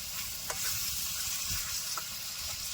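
Onions fry in a pan for a soda kalvan curry, giving a continuous, fairly quiet sizzle close by with a couple of faint stirring taps and no speech.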